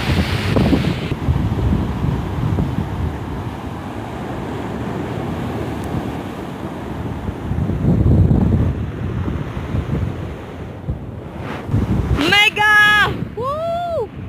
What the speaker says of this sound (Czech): Vítr jako kráva, ale to nevadí.